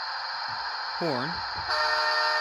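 A Rapido Canadian RDC model train sounds its horn, a short rising-and-falling two-tone blast near the middle, over a steady electronic hum from the model's sound system.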